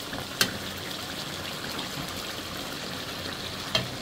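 Chicken broth poured into a hot pot while cooking chicken curry with moong dal and potatoes, giving a steady close hiss of liquid hitting the hot pan, with two brief sharp clinks near the start and end.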